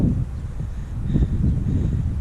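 Strong wind blowing across an open field at midday, a continuous low buffeting rumble on the microphone at fairly high loudness, with no voices.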